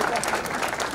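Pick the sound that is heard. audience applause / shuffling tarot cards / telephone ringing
audience applause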